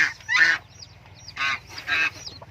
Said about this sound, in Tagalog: dun sa kabila manok ayun tumutunog na sila